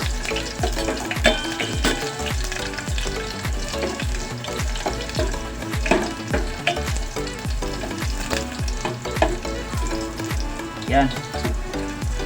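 Garlic sizzles and fries steadily in hot oil in a pan, browning toward golden, with a continuous crackling hiss and occasional stirring clatter; a voice briefly speaks over it.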